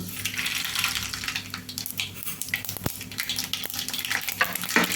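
Mustard seeds dropped into hot oil for mango pulihora crackle and sizzle in a quick, uneven patter, with small sharp pops over a continuous frying hiss and no talking.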